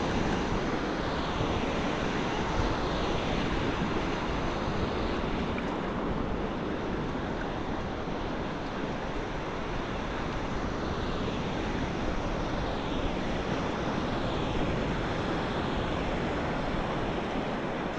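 Broadband roar of ocean surf washing onto the shore at a fishing and camping spot, steady and loud for the whole stretch with no voices and only gentle swells in the wash.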